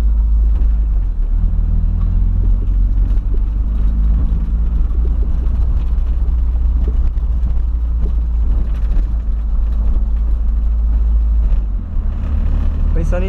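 A Volkswagen Voyage drives along with a continuous low engine rumble and road hum filling the whole stretch, steady and close.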